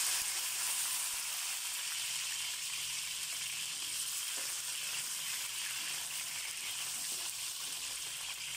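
Potatoes fry in oil in a pan, giving a soft, continuous sizzle that stays level and fairly quiet from start to finish.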